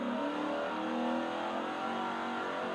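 Heavy, loud car engine revving in a video game, a continuous droning roar with sustained, slightly wavering tone and no pauses.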